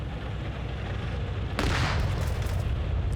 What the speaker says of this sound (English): I think that was actually the main cannon.